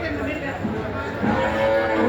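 A water buffalo at a livestock market lets out a low, drawn-out moo nearby, rising slightly toward the end.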